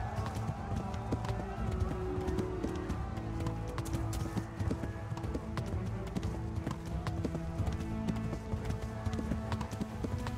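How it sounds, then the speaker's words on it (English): A horse gallops in the medieval video game Kingdom Come, rapid rhythmic hoofbeats pounding steadily and close throughout over a low rumbling game background. "Come on, horsey, run somewhere."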